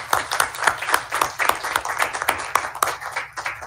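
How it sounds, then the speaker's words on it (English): A small crowd at a school board meeting applauds the speaker's assistant, a brief round of steady, moderately loud clapping with no speech. "I want a special round of applause for my assistant today, Noah."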